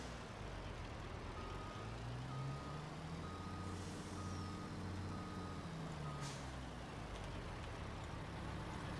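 A truck in Farming Simulator 22 backs up to a planter, its reversing alarm beeping at a steady rhythm over a continuous engine drone, with a couple of brief air hisses.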